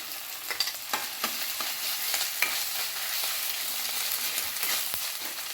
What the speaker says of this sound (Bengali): আদা রসুনটাও খুব ভালো করে ভেজে নিতে হবে।